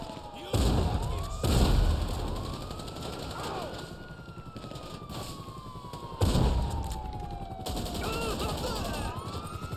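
Shotgun blasts in GTA Online, two heavy booming shots spaced several seconds apart over a wailing siren and busy game noise, with a voice talking briefly between them.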